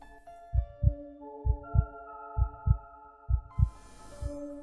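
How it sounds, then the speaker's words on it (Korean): A slow, steady heartbeat, paired thumps repeating evenly about once a second over a low hum, close and muffled. "귓가에는 제 심장 소리와 억지로 공기를 들이키는 소리만이 들릴 뿐이었습니다"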